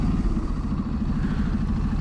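A Ducati Desert X engine runs low and throbbing, a steady mid-pitched rumble with pulsing firing rhythm under engine braking on a ride, close and continuous with no talk.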